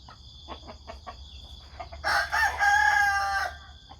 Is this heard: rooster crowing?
yes